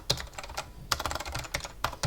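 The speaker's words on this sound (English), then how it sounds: "What's wrong with my typing today?" Close, quiet typing on a computer keyboard, a quick irregular run of clicky keystrokes with a few louder taps standing out, no voices over it.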